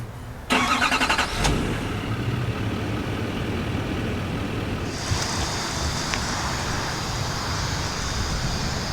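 A 2020 GMC Sierra 2500 HD heavy-duty pickup starts by remote start: a brief crank, then a steady close idle with a faint higher whine joining later.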